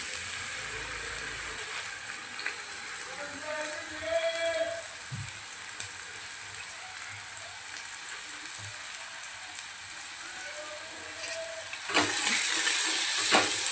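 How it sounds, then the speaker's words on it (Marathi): Onions sauté in hot oil in a kadhai, making a quiet, steady sizzle with occasional stirring scrapes and a louder burst of frying toward the end. "कांद्याला आपण परतून घेऊया आधी"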